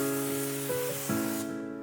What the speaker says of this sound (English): Explain the pre-spray of our all-purpose cleaner, All Clean, on the wheels